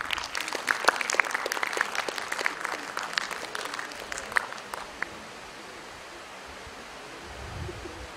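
An audience at a career counselling session applauds in a dense burst of clapping that fades out after about five seconds, leaving quiet room noise.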